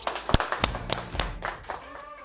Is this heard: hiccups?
no